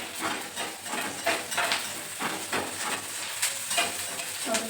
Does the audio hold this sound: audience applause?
no